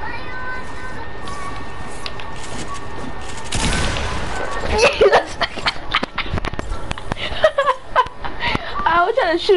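Gunshots from a shooting video game ring out in bursts amid excited talking and laughter, growing denser and louder midway through.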